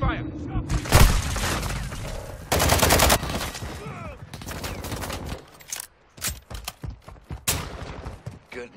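Gunfire in a first-person shooter video game, with loud bursts of automatic fire, sharp single shots and a shattering crash, close and dense at first, then sparser shots under in-game voice callouts.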